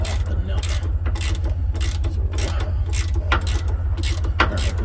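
A ratcheting wrench clicks in quick, steady bursts while turning a nut on a truck's disc brake chamber, close and distinct over a low constant hum.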